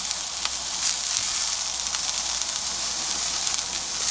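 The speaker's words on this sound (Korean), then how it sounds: "붉은 양배추도 볶다가요 소금 약간 넣으시고 자, 버섯 약간 넣습니다." Red cabbage and mushrooms stir-fry in a hot pan, giving a steady bright sizzle with soft crackles and occasional scraping stirs, close and alone.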